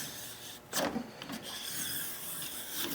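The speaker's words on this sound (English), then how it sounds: "That's a good scrub." Rough scrubbing strokes inside an AR-15 rifle bore, several close, raspy rubbing passes at a fairly even loudness, with no talking.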